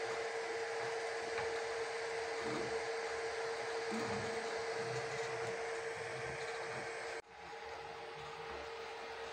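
An FLsun SR Super Racer delta 3D printer runs with a steady fan whir and a constant high tone. The level is fairly quiet, and the noise drops suddenly near the end before continuing at a lower level.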